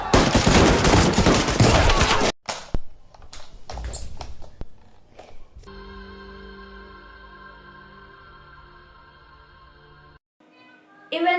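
A gunfire sound effect in a Republic Day school skit about the Indian freedom struggle: a loud, dense burst of rapid shots for about two seconds, followed by scattered noises and a sustained tonal musical passage.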